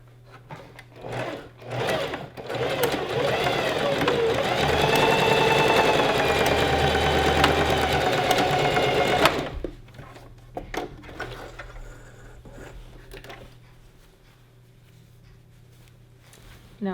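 A sewing machine runs in one steady burst of about seven seconds, joining gathered skirt pieces, with quieter handling and shifting of fabric before and after.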